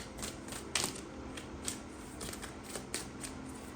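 A tarot card deck is shuffled by hand, producing quick, faint riffling and flicking bursts in an uneven rhythm, close but quiet, with no voices.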